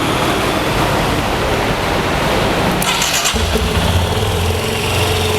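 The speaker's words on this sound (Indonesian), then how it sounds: "Ya, kita hidupkan mesin." A car engine being set to a 1700 rpm idle turns over and catches, then runs with a steady mechanical roar that rises as it revs, loud and close with no talk.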